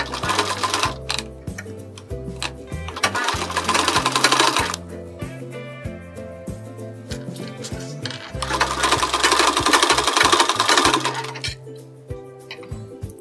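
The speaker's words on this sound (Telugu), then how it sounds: "ఇలాగా బ్లౌజ్కి కింద వైపున ఇలా పెట్టి స్టిచ్ చేసుకుంటూ రావాలి." Sewing machine stitching along the lower edge of a blouse, two sustained loud runs of rapid needle clatter with quieter stop-start mechanical ticking and handling between them.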